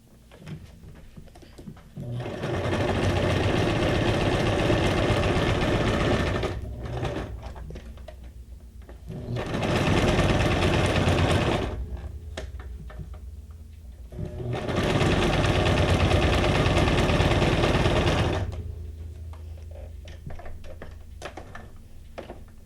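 A sewing machine runs in three long, loud, steady bursts while junk journal ephemera is made, with brief pauses and faint handling sounds between the runs.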